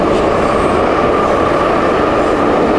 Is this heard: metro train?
yes